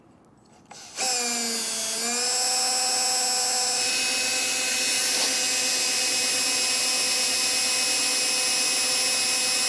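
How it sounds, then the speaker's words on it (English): A power drill with a 25/64 bit, drilling bolt holes for a trailer coupler, spins up and then whines steadily at one high pitch, running continuously and fairly loud with no pauses. "I'm going to take a small drill bit, drill these out"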